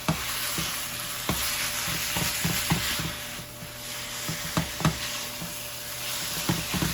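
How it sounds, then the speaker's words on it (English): Zoodle sauce mixture sizzles loudly in a hot pan as a utensil stirs it, steady frying hiss under irregular knocks and scrapes against the pan, no voices. "So I'm just gonna give it a good mix in"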